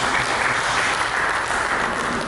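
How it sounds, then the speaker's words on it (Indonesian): A church congregation applauds in praise during an Indonesian worship service, a dense, steady roar of clapping that stays loud and even throughout. "kita berikan tepuk tangan yang mulia bagi Tuhan Yesus"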